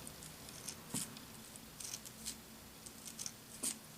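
Scissors snip through stacked paper circles for a rosette flower, several quiet separate cuts spaced irregularly, close up with no talking.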